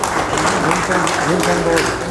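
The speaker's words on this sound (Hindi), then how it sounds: "सर के लिए जोरदार तालियां" An audience at a community gathering claps loudly for a brief moment, with the patter mixed under a nearby speaking voice.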